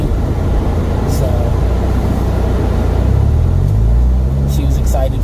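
An MG sports car engine hums as it drives along, a steady close rumble with road noise filling the cabin throughout and a soft hint of talk.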